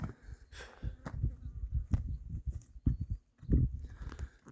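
A horse walking over obstacles on the ground, its hooves thudding and clopping in an uneven run of low steps, close by, with faint insect buzz in the background and no talk.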